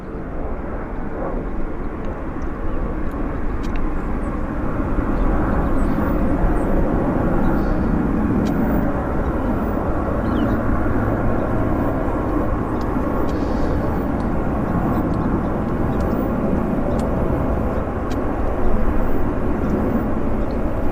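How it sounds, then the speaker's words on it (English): A Global Express business jet taxis at Vancouver YVR airport, its engines producing a steady, loud, broadband roar that holds constant throughout with no voices. "it's a Global Express turning on to the active"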